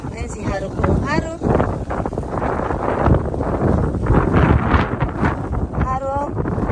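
Strong wind buffeting a microphone on a windy walk at Makinohara in Japan, loud continuous rumbling gusts throughout, with a person talking briefly and bird chirps faintly in the background.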